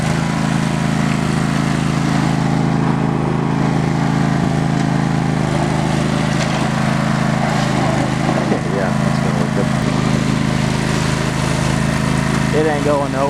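A small engine on a homemade trail mower with an unlocked differential drones loudly and steadily as the machine tries to climb a leftover snow pile, never pulling clear, while people talk over it.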